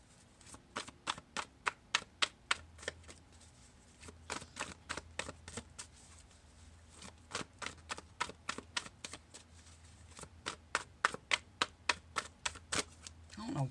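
Tarot cards are shuffled by hand in rapid crisp flicks that come in uneven bursts with short pauses between, soft and close, while a person talks quietly underneath.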